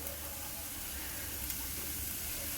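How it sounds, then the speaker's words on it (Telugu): Cumin, onion and green chillies frying in hot oil in a pan, giving a steady, close sizzle and hiss that carries on unbroken with no talk. "జీలకర్ర, ఉల్లిగడ్డ, పచ్చిమిర్చి ఇవి వేసేసుకొని కొంచెం పసుపు"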